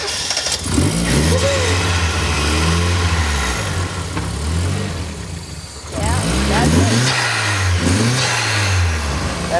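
The FrankenMiata, a Miata built from four engines with a cobbled-together Mexican turbo, cranks and fires, then revs in several loud rising-and-falling bursts close by, while people talk and cheer over it.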